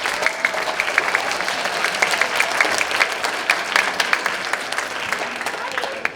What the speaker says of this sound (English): So I'd like to give them a round of applause as well.